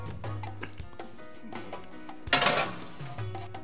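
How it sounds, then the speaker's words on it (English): A metal pan holding a porchetta, a rolled pork roast, clinks and scrapes as it is handled and slid into an oven, with one louder clatter midway among quieter knocks. "So let's get this over to the oven,"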